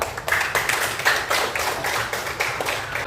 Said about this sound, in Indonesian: terima kasih, tepuk tangan untuk Eva